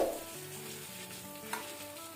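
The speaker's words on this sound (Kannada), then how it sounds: "ಒಂದು ಸೈಡ್ ಫ್ರೈ ಆಗಿದೆ. ಈಗ ನಿಧಾನಕ್ಕೆ ಇದನ್ನು ತಿರುಗಿಸಿ ಹಾಕುವ." White pomfret shallow-frying on a flat iron tawa, a steady close sizzle running throughout with a faint scrape or tap as the fish is turned over partway, no voices.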